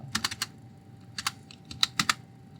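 Someone types code on a computer keyboard with a few scattered, crisp clicks in small clusters, close and clear against a quiet background.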